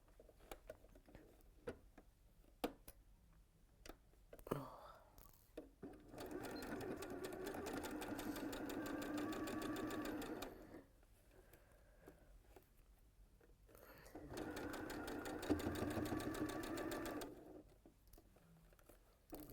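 A domestic sewing machine stitches a pleated fabric bag, running in two long steady buzzing bursts separated by pauses with faint handling clicks, close and alone without talk.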